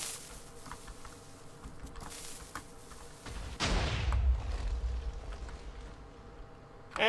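Warship weapon fired at a target during a demonstration, a sudden loud burst of rumbling gunfire or blast erupting midway and booming on over a steady droning background.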